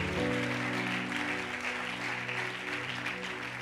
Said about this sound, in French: Acclame très fort là où tu es.